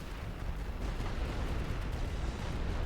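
Artillery pounds away in The Great War: Western Front, a World War I strategy game, as a continuous low rolling rumble of distant shell impacts with no clear gaps.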